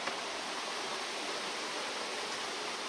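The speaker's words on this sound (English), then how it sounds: "This is where the water comes through. The river over here." River water in Portugal rushes in a steady, broadband wash with no breaks, close and even throughout.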